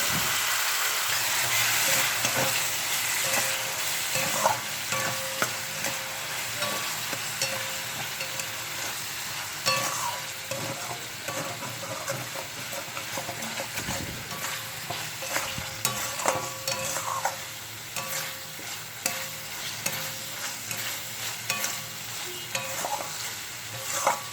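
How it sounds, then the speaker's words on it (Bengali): Spice paste for a jackfruit and prawn curry stir-fried with a little water, a continuous close sizzle broken by steady scraping and clattering of a spatula against the pan over a long stretch, no speech. "সামান্য জল দিয়ে মশলা ভালো করে কষিয়ে নেব।"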